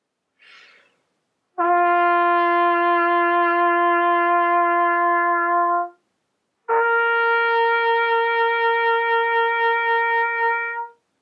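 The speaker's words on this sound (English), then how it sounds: "if you might decide to do some long tones" A trumpet sustains two long, steady tones, each held for several seconds with a short gap between them, loud and clear with no other sounds.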